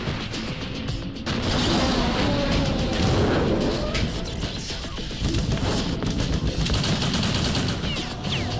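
Sustained machine-gun fire in Metal Gear Solid 2: Sons of Liberty, dense rapid bursts with crashes and impacts rolling on continuously for several seconds, loud and close with no talk over it.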